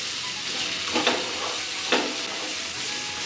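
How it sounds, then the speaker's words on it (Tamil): Carrots with salt sauté in a pan with a continuous close sizzle, broken by two short stirring scrapes, and nobody speaking. "இது கேரட் நல்லா வேகணும் அதனால் இது முதலே சேர்த்துட்டு உப்பையும் சேர்த்து வதக்கிடுவோம்"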